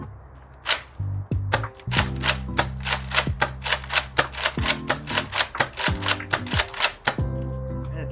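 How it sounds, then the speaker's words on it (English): A Nerf N-Strike Elite Rampage pump-action blaster slam fires darts in a quick string of sharp snapping shots mixed with pump clacks, steady and close, with no talk. "and it does have slam fire too."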